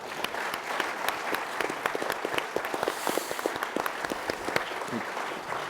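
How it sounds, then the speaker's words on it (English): Audience applause at a panel discussion on regional security and warfare, a dense crowd of clapping hands with sharp individual claps standing out, steady and sustained throughout. "let's give a round of applause, particularly to that young lady that came up to ask that thoughtful question."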